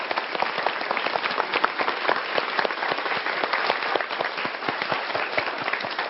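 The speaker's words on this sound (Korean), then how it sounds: "우리 뜨거운 박수 한번 주십시오." Warm applause from a seated audience at a lecture show, many hands clapping in a thick, even stream that stays steady throughout, close and full with no voices on top.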